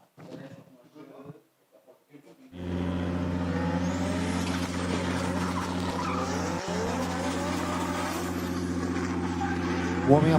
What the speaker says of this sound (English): Warming up his tyres